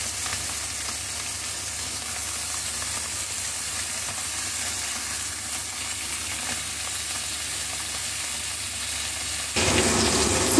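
Fish sizzles and crackles steadily in hot oil, a constant bright frying hiss that grows slightly louder near the end.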